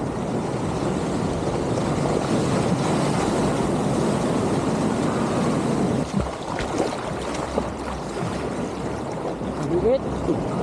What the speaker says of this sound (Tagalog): Ang gulo ng alon na yun ah